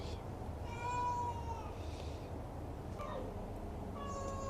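Shelter cats meow for treats, several distinct meows rising and falling across the few seconds, close and clear over a low steady background hum.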